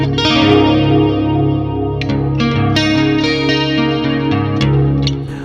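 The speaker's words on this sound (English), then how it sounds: "Deep spring reverb." A sustained, richly strummed acoustic guitar through a Boss Katana Acoustic amp with heavy effects, washed in deep, splashy spring reverb and a slight wobble; chords ring continuously at a steady, loud level.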